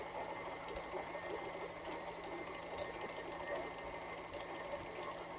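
An electric mixer creaming slightly firm butter for chocolate chip cookie dough, giving a steady, unbroken motor whir that stays even and moderately loud throughout.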